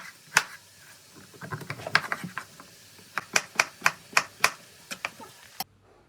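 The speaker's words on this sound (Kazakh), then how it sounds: "Енді барлық кабачкилерімізді турап аламыз." Zucchini is being chopped on a board: a run of sharp, crisp knife strikes, some in quick clusters and others spaced and steady. The strikes sound close and clear over a quiet background.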